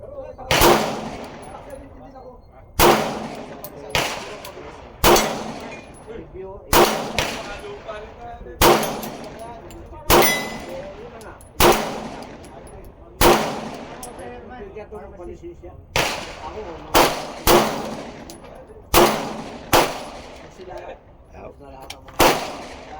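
Pistol shots from a Springfield Echelon and a Glock 19X ring out one at a time at an uneven, deliberate pace, each sharp crack trailing off with an outdoor echo, about fifteen shots in all.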